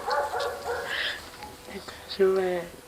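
A male miniature pinscher gives short yipping barks and whimpers close by, the calls rising in pitch near the end, while people talk over and around them.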